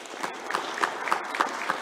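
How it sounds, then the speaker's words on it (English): Applause from the audience at a high school National Honor Society and Horton Society induction ceremony, a modest group clapping with loose, uneven individual claps standing out over a soft continuous patter. "Let's give them a round of applause."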